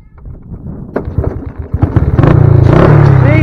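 Honda motorcycle engine revving on the throttle, a loud steady drone building in the second half after clattering mechanical noise and scattered talk.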